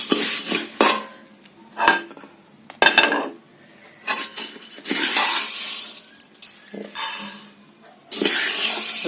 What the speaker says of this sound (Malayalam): ഇനി നമുക്കത് മറ്റൊരു പാത്രത്തിലേക്ക് മാറ്റാം.